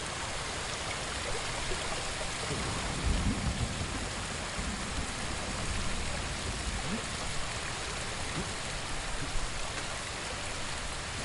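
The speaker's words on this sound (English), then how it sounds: "Always look behind a waterfall." A video game waterfall gives a steady, full hiss of rushing, splashing water that holds at an even level throughout, with no pause.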